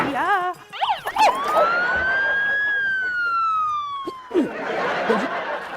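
An ambulance siren rises up and then holds a long, loud wailing tone that slowly falls away, with brief voices and noises around it at the start and the end, in a Hindi TV serial scene.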